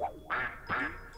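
Two nasal, drawn-out duck quacks from the video game Pinocchio, each loud and close, separated by a short pause with a faint tonal hum beneath.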